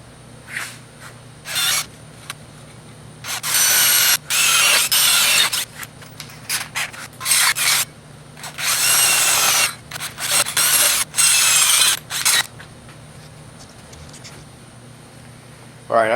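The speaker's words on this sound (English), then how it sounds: "Now we're going to drill the back one." A power drill boring the back hole of a clamped DIY hole punch part, running in repeated loud bursts of varying length with short gaps between them, close by.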